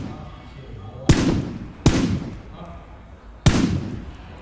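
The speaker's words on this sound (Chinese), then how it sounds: "有人在射我。" Gunfire aimed at the player in a video game comes as three loud, sharp bursts, each trailing off before the next, spaced about a second or more apart.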